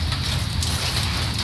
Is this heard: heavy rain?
yes